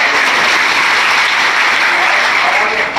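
Crowd at a political speech by an education minister clapping in sustained, dense applause, loud and close, lasting the whole stretch without a break.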